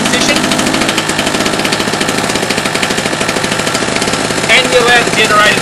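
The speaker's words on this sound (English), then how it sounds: "we allow the generator to run for a few minutes just to warm up" A 909 Tools G800 petrol generator engine running and warming up after a choke start: a loud, steady mechanical drone with fast, even pulsing throughout, heard on its own.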